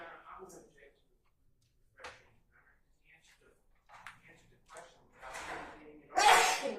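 A single sharp sneeze bursts out at the end in a courtroom, loud and close, after scattered quiet murmurs and small noises.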